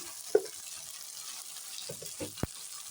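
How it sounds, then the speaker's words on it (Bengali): Spices with salt and turmeric frying in a pan for a dal curry, a steady soft sizzle with a few brief stirring clatters and knocks over it. "মশলাটা এখন আমি ভালো করে কষিয়ে নিই লবণ হলুদ এক চামচ চিনি দিয়ে দিলাম"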